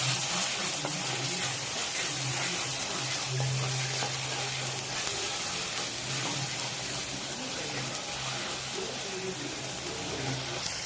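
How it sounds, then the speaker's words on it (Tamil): Ingredients sauté in a pan for Chettinad-style goat trotter paya, giving a continuous close sizzle with scraping stir sounds and faint background voices. "நல்லா வதக்குங்க"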